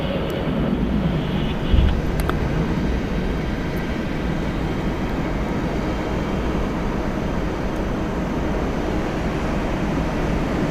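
A Delta Airlines airliner arrives at Atlanta Hartsfield-Jackson International Airport, its engines a broad, steady low roar that holds loud and constant throughout, with no talk over it.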